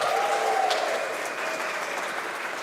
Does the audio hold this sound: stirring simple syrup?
no